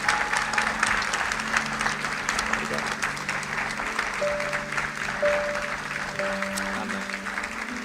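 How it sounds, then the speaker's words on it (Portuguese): Steady applause from a church congregation fills the space, dense clapping running throughout at even loudness, with a sustained keyboard or organ tone underneath. "Então eu gostaria que nós pudéssemos dar uma salva de palmas a todos eles."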